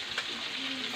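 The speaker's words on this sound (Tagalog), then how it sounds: "habang hinihintay natin yung prito" Food frying in a pan gives a steady, close hissing sizzle that fills the whole short moment, with no voices over it.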